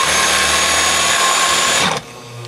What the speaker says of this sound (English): try drilling a little bit bigger pilot hole